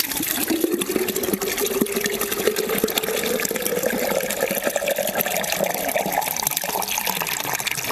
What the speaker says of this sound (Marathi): तर आता एवढी कळशी घेते भरून स्वयंपाकासाठी.